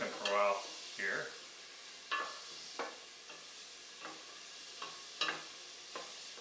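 Onions cooking in a pan for a mushroom risotto with red wine, a soft steady sizzle beneath a handful of scraping stirs, the loudest near the start and the rest fainter and spaced out.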